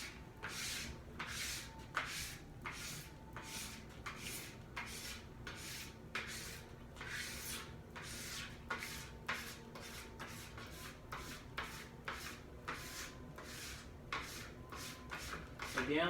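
A plastic scraper pulls wax off a ski toward the tail in repeated rhythmic rasping strokes, roughly one a second, close and crisp, running under a person speaking quietly.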